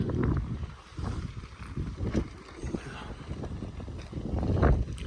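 Strong wind gusting across a grain warehouse roof during roof sheathing work, low rushing buffets against the microphone that swell and ease, with faint knocks scattered through.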